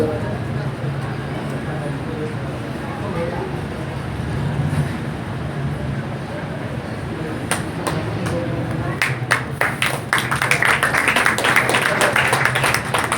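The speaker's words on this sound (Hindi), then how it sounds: "मैं चाहूंगा कि जोरदार तालियों से स्वागत किया जाए" Applause from a public gathering at a trust and research institute's inauguration, starting as a few scattered claps and building into loud, dense clapping over a constant low background rumble.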